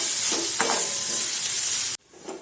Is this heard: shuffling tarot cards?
no